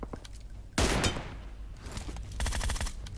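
M24 sniper rifle fire in a shooting video game, a loud sharp report followed by a decaying tail, then a second burst of rapid cracks near the end.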